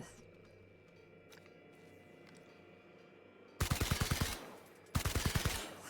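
The player's gun firing in The Outer Worlds video game: two loud rapid bursts of automatic fire, each under a second long, over a quiet game ambience.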